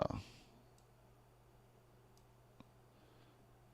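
Faint, sparse computer mouse clicks at a trading desk during a live Nasdaq futures trading stream, a few isolated taps spread over a quiet room background.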